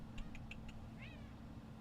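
A cat gives one short, soft meow at moderate distance, preceded by a few faint clicks, over a steady low background hum.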